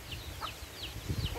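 Native chickens, a hen with her chicks, cluck softly in a pen bedded with rice hulls, short chirps repeating over low rustling and background noise.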